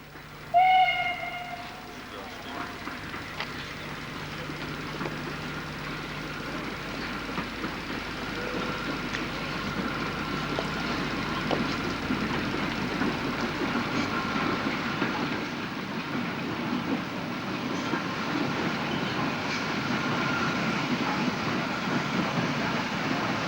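An LMS 4F steam locomotive, number 4027, moves along the track at a heritage railway, opening with a short whistle and then a steady rumble and clatter of the moving train, fairly loud and continuous.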